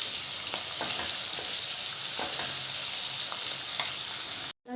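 Onion fries in a pan with a continuous bright sizzle, broken by occasional stirring scrapes, close and steady until it cuts off abruptly near the end; no speech.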